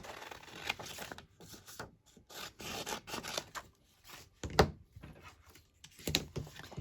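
Scissors fussy-cut paper for a journal page: close, intermittent crisp snipping and rubbing strokes in short bursts separated by brief quiet gaps, with no talking.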